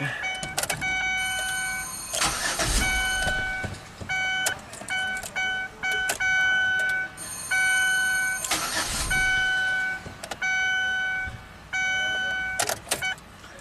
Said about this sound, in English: Might be out of gas, I don't know, but it cranks.